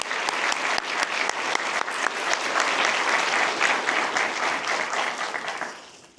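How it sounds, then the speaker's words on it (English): Applause for a Chief Probation Officer at a deputy probation officer graduation ceremony, dense sustained clapping from an audience in a hall that tapers off at the close. "Let's give a big round of applause to our Chief Probation Officer,"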